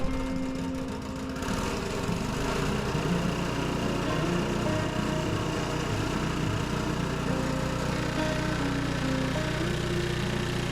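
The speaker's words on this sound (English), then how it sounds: "Just get it primed, which is what I'm doing right now, and then turn the throttle up and give it a pull." A two-stage gas snowblower engine runs steadily after starting, a loud, continuous droning mechanical roar close by with no voices over it.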